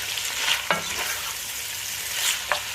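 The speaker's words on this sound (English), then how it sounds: "my onions and bacon rashers. I've been frying for about 1 or 2 minutes now" Onions and bacon rashers sizzle steadily in a hot pan, with a couple of brief scrapes as they are stirred. Close and moderately loud, with no voices.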